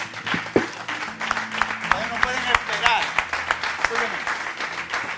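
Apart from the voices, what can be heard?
preacher clapping his hands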